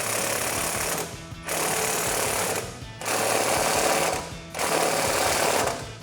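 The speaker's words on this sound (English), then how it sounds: "next we're gonna tighten down our sway bar end link" A tool works on a pickup's sway bar end link with a 15mm socket, in three steady whirring bursts about a second long, separated by short pauses, loud and close, with no talking.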